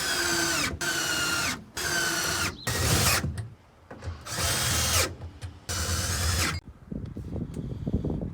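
Stainless steel screws driven into L plates while fitting homemade floor panels for a Lund SSV14 boat, a close power drill whirring in several short bursts separated by pauses, with ratcheting clicks near the end.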